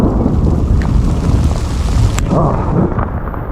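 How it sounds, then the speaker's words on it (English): Thunder crashes and rumbles through a hailstorm on a high mountain trail in Colorado, a dense, loud, continuous roar of storm noise with hail and wind, and no voices. "the thunder crashed around me"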